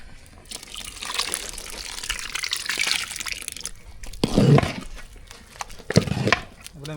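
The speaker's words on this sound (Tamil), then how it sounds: "கடைசியாக புளி தண்ணி சேர்த்துக்கலாம்" Tamarind water is poured into a pot of sambar rice in a few splashy, gurgling bursts, with a softer trickle and drips between pours, heard up close.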